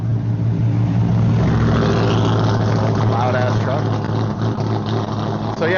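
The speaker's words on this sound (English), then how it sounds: "Loud ass truck." A loud truck rumbles past nearby, a broad heavy roar with engine drone that stays strong throughout, with a voice heard partly under the noise.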